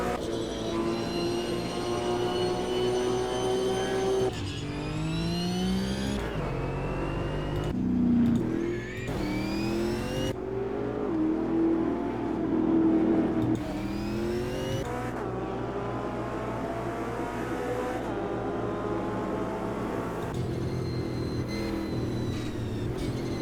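A GT race car in Automobilista 2, a mid-engine rear-wheel-drive touring machine on the Adelaide street circuit, revs loudly and continuously, pitch climbing and dropping through repeated gear changes with other cars close by.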